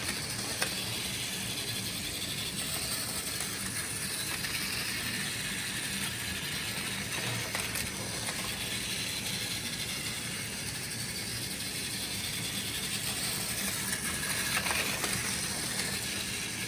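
A Plarail E3 Unit 2 toy train with a weak battery or motor runs steadily, giving a continuous whirring, rattling mechanical drone with faint clicks throughout.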